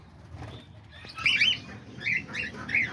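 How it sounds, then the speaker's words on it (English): Diamond doves and cockatiels in an aviary flutter with soft wing flaps, while a few sharp chirps burst out close by over a low background rumble. "there's the diamond doves, and let's go check out the cockatiels, see what they're up to."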